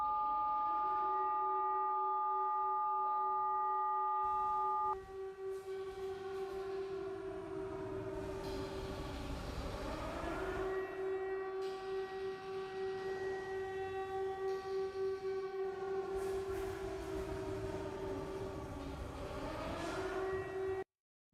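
Civil defense sirens in an analog horror emergency broadcast, a steady rising-and-falling wail that swells in long cycles and stays loud for about twenty seconds, with a brief electronic tone at the start.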